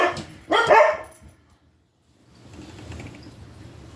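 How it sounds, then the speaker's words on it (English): Dogs bark indoors in a sharp, loud burst of a couple of barks, then fall silent, followed by faint low room noise. "Those are my dogs."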